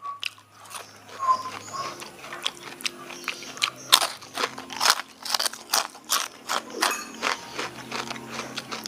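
Someone bites and chews crispy chips made from giant cassava up close, producing a steady run of brittle crunches and crackles at a low level.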